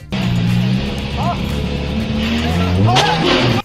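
Aston Martin lurching forward with tires squealing and skidding, a loud, close engine roar rising in pitch across a few seconds, with sharp squeal bursts on top before cutting off abruptly.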